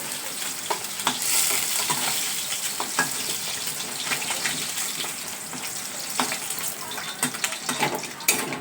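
Fish frying in hot oil in a home kitchen, a steady close sizzle with scattered sharp pops and crackles throughout, no voices.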